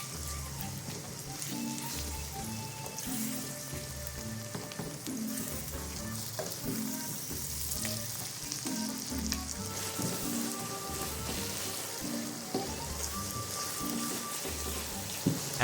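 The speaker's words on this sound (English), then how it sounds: "Sauté the ground beef with the onions until the meat is cut." Ground beef and onions sauté in a pan for a stuffed eggplant dish, a continuous crackling sizzle with irregular stirring scrapes throughout, close and steady, with no voices.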